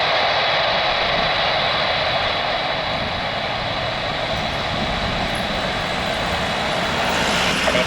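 A Lion Air Airbus A330neo takes off at Soekarno-Hatta airport, its jet engines a loud, sustained roar that stays broad and steady, swelling slightly toward the end with no voices over it.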